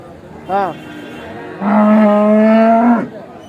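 A cow moos twice at a busy cattle market: a short low call first, then a longer, loud sustained moo, both over a steady background murmur of the crowd.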